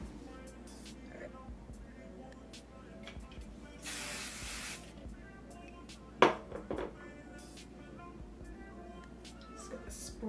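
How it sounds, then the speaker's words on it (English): Hair spray aerosol sprayed onto a wig, one steady hiss of about a second in the middle, surrounded by quiet handling noises and a brief thump. "Spray this, sweep this down."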